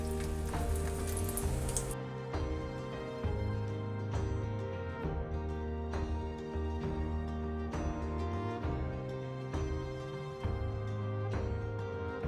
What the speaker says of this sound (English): We're just gonna fry it now.